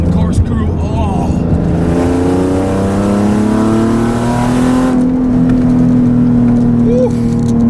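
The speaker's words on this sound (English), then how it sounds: "It sounds so good." A stock Nissan 370Z engine revs hard at Willow Springs Raceway, pitch climbing steadily through long pulls with a brief gear change, loud and close from inside the car, with occasional voice sounds mixed in.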